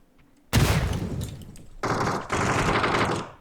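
Bursts of automatic gunfire in the battle royale game PUBG, a loud dense volley breaking out after a quiet start, pausing briefly, then resuming in sustained rapid fire.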